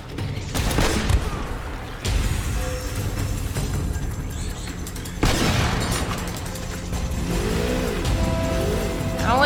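A vehicle accelerating in the action game Uncharted, with a loud engine roar and a rumble that surges in waves, mixed with sharp bangs and gunfire-like bursts.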